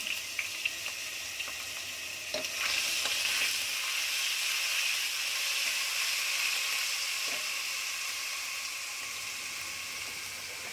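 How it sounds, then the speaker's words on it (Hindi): Steady, soft sizzling of garlic and ginger frying in hot oil, with a few light clinks and stirring sounds throughout. "हल्का सा फ्राई करेंगे। लहसुन अदरक डाल दिया"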